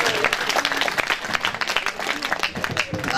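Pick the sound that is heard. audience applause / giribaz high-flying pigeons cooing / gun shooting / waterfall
audience applause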